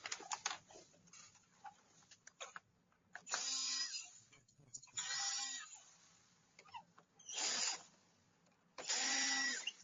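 An electric screwdriver backing out the screws on the bottom of a Tineco vacuum mop, heard as four whirring bursts of motor noise of a second or so each, close up, separated by quieter handling clicks and rattles.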